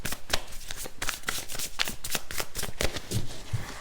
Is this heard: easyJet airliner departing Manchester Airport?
no